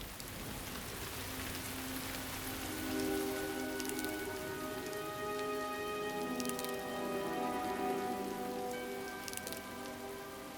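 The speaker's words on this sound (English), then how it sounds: "A heavy rain comes unexpectedly." Steady heavy rain pours down in a wildlife setting, a dense hiss of drops on surfaces, with occasional sharper splashes and no voices.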